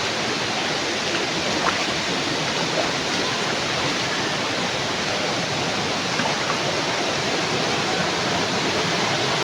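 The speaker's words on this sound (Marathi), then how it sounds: "तुम्हाला सगळा आवाज येत असेल वॉटरफॉलचा" The Navlai waterfall near Guhagar roars loudly and constantly, a dense, unbroken rush of falling water that fills the whole span with no voices over it.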